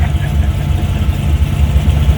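A 1947 Ford Deluxe with a 289 V8 and a race cam idles close by, giving a loud, steady, lumpy low rumble with no break.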